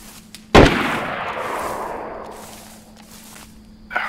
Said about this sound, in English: Let's see where those rounds are coming from.